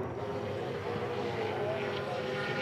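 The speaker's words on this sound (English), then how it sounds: "You'll hear the engine. Listen to it." Onboard V8 Supercar at Queensland Raceway in 2009, its failing engine giving a steady, loud, rough drone with no gaps across the whole stretch.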